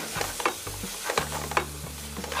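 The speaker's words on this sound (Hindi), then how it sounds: "इसके अंदर अपन रफली कट किए हुए अपने अनियन डाल दें" Roughly cut onions fry in a hot pan with a constant crackling sizzle, broken by several sharp stirring scrapes over a few seconds, close and without talk.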